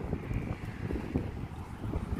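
Gusty hot wind buffeting the microphone on a boulevard in Saratov in August, rumbling low and uneven throughout, with no clear voices.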